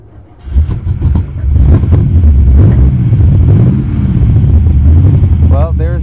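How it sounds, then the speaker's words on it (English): A 1952 Allard J2X with a Cadillac V8 drives on the road. The engine roars loud and close under heavy wind buffeting, and a voice is briefly heard near the end. "Well, there's your Cadillac V8."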